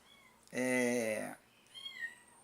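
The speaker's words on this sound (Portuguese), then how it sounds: "O gatinho tá chorando ali, que é o bebezinho" A small abandoned kitten gives one loud, drawn-out, crying meow close by, followed by a fainter second cry with quiet talk.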